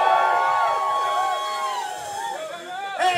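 A festival crowd at a Feral Fest set roars and whoops, with overlapping wavering shouts and cheers swelling again near the end.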